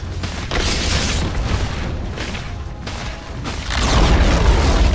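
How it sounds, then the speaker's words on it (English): Radiant's middle tower crumbles in the Dota 2 video game, heard as a rolling, booming rumble over dense game noise, swelling into a louder crash toward the end. "Radiant's middle tower has fallen."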